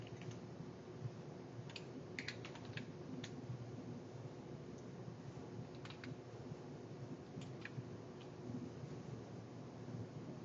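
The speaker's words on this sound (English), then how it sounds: "And then I'm just going to type" Typing on a computer keyboard: sparse quiet clicks in short bursts over a steady background hum, near but faint, with long pauses between groups of keystrokes and no voices.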